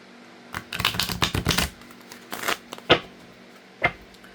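Tarot cards are shuffled in quick riffling bursts up close, a dense flurry of crisp slaps followed by a few single sharp card snaps.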